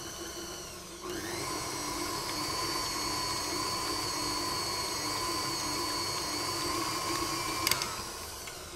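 An electric mixer whirring steadily through cake batter with flour, starting after a second and holding a constant high motor whine close up, with a small clatter near the end.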